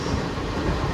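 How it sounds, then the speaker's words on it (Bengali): A train moving at speed, about 100 km/h through open farmland, gives a steady rushing rumble of wheels on track with no voices. "এখন প্রায় ট্রেনের স্পিড 102-4 হচ্ছে"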